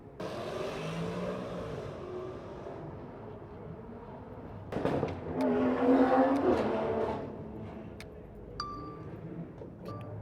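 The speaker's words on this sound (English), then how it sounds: "There goes Scatoon and the C7 taking off as well." Cars, including a Honda NSX and a C7 Corvette, pulling away from a Cars and Coffee meet in Malibu, an engine surge building to a loud rise mid-clip before fading, over outdoor crowd ambience with a few metallic clinks.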